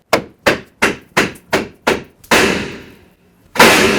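Seven sharp hammer taps ring out in steady rhythm on a 2009-2014 Ford F-150 steering knuckle, then a heavier metallic clunk with a long decaying ring and a final loud clank as the part breaks free.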